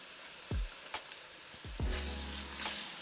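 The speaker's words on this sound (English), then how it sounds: "Cook that right through until the garlic and ginger is nice and golden too." Grated garlic and ginger fry in a pan, a quiet continuous sizzle broken by a few low thumps and a rising burst of hiss near the end, with no voices.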